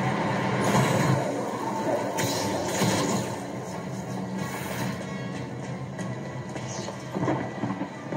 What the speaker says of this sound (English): Get to the front, stop the train